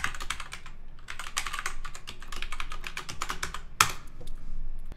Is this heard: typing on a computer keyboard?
yes